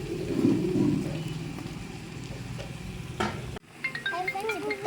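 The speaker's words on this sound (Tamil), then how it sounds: "இப்போ கொத்தமல்லி கருவேப்பிலை போட்டுக்கலாம்." Coriander and curry leaves go into a biryani pot and are stirred through, a close scraping and sizzling that cuts off abruptly, followed by a brief voice.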